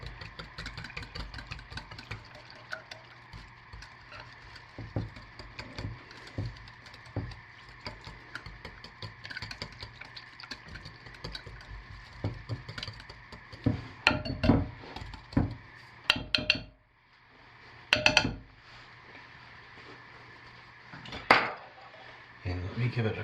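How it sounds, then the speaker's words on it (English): Black colorant being stirred into soap batter, with scraping clinks and taps of a utensil against a container, irregular and close, over a steady background hum with occasional brief talk. "So let me just stir the black in."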